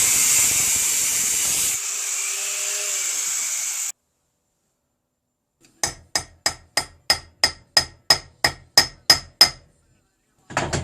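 A hiss and whine give way to silence, then about a dozen sharp metallic hammer taps seating a rear wheel bearing on a Triumph Bonneville Speedmaster, steady pace, close and loud, with more strikes at the end.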